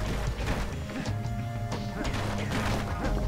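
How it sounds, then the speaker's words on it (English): Repeated crashing smashes as the kid breaks objects in the Bastion video game, dense thuds and cracks one after another over steady game music. "because I just started smashing everything"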